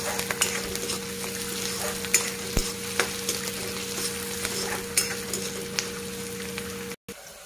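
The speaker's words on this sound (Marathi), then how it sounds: "हे बारीक चिरलेला कांदा, कांदा छान तळून घ्यायचा लाल कलर येऊपर्यंत।" Finely chopped onion fries in hot oil with whole spices, giving a steady, close, crackling sizzle that carries on evenly with a few small pops.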